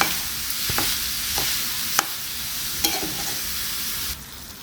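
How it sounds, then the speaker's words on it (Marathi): Grated fresh coconut, sugar and khoa are stirred over a low flame in a pan for coconut vadi, a soft steady sizzle with a few isolated spatula taps and scrapes, fading slightly at the end. "खोबरं, साखर आणि खवा बघा एकसारखा असा परतून झालेला आहे"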